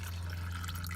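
Used engine oil dripping from a car's drain during an oil change with the filter removed, a continuous liquid trickle over a steady low hum, close and fairly quiet.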